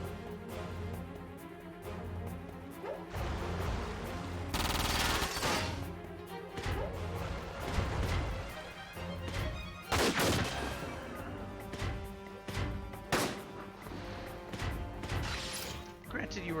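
Mech guns firing in Front Mission 4, a string of sharp shots and crashing impacts spaced through a battle sequence over game music, with someone talking throughout.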